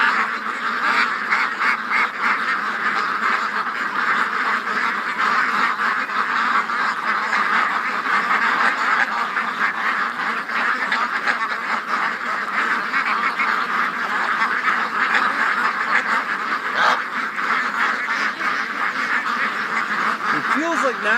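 A dense flock of ducks and geese quacks and honks continuously for about twenty seconds, a loud layered din of overlapping calls with a voice faintly mixed in near the end.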